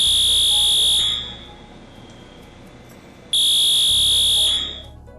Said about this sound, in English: This is the sound of the fire alarm, Stage 1.